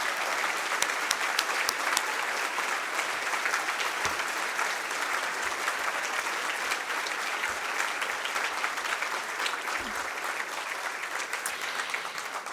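Audience at the 2025 Canadian Business Hall of Fame induction ceremony applauding the inductees, sustained dense clapping from a large crowd that holds steady at full volume the whole time.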